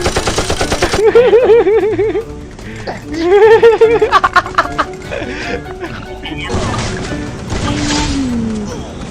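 Gunfire in Free Fire, a mobile battle-royale game, rattles in quick bursts under excited shouting voices, with sharp shots clustered through the middle and end.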